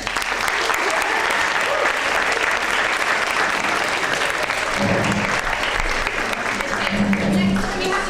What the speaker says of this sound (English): Can we have a round of applause for our president?